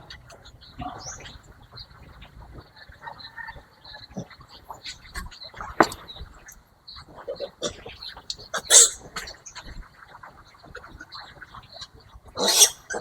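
Piglets being given vitamin injections on a pig farm, with sharp, loud squeals bursting out intermittently, strongest near the end, over a background of shuffling animals and scattered talk.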